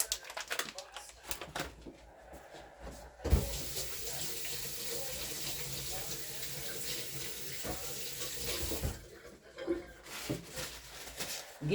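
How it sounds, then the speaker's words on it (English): Hands are rinsed under a running tap at a sink. A few seconds of small handling sounds come first, then a steady gush of water runs close for about six seconds before it stops, followed by light clatter. "I'm gonna kind of rinse my hands a little bit."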